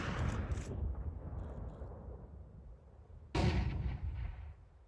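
A flashbang grenade goes off in Counter-Strike, a sudden loud, close blast that rings on and slowly fades, following a rumbling stretch of match noise with a couple of sharp bangs near the start.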